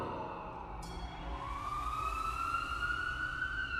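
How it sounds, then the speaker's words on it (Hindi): An ambulance siren wails over a rumbling background, its rising, sweeping tone growing steadily stronger and nearer, with no voices. "उन्हें एक एम्बुलेंस की आवाज आई।"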